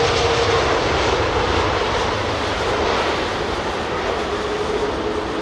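Rolls-Royce engines on a Boeing 777-200 at London Heathrow give a loud, steady jet roar that fills the whole stretch without letup, broadband and powerful as if close by.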